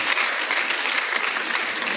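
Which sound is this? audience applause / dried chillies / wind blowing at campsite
audience applause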